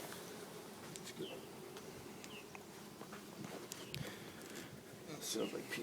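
A soft, steady hum of many honey bees buzzing around an opened hive fills the air, with faint rustling and a few quiet knocks nearby.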